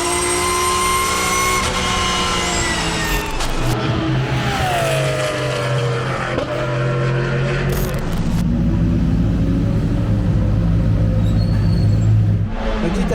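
Audi R8 LMS GT2 race car engine at Hockenheim, loud and close, its pitch climbing through gears with sharp shift breaks, then dropping into a lower droning rumble.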